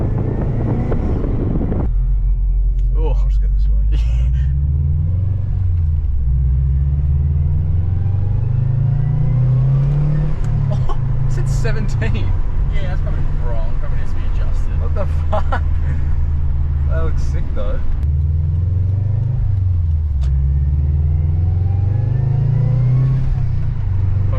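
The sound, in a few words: 2011 Subaru WRX engine revving with blow-off valve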